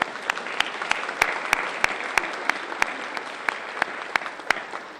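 An audience at an all-academic college meeting at ICC gives a round of applause: dense, steady clapping from many hands with sharper individual claps standing out, held at an even level for the whole stretch.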